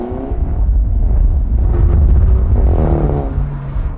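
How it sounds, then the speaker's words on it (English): Volkswagen Polo Grand Touring engine running, a loud steady low rumble heard from close by, with a slight rise and fall in pitch partway through. "Listen for a moment to how the Grand Touring sounds here."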